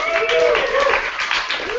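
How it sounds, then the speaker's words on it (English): Open mic audience clapping for a performer, a short burst of steady applause from a small crowd, fairly loud and close. "Round of applause for Aaron,"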